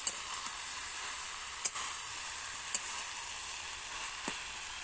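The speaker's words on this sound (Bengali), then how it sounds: "আমি এবার আর একটু ভালো করে কষিয়ে জল দিয়ে দেবো" Masala sautés in a pan with a steady, soft sizzle and hiss, broken by a few sharp clicks of a utensil against the pan.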